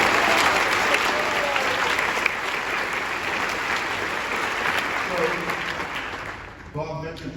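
Audience applause in a theater for the lighting crew at a director's final bow, loud sustained clapping from a large crowd that slowly thins and ends as a voice begins speaking.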